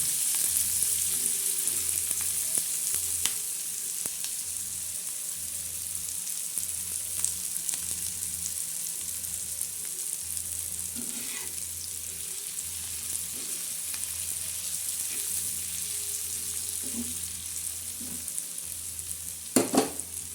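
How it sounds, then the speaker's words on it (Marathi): Onion sizzles steadily in a pan as it is fried until dark for a black masala of coconut, garlic and whole spices, with a constant close hiss and a few sharp spoon scrapes and clinks, no talking. "आता हा कांदा चांगला काळसर भाजणार आहोत"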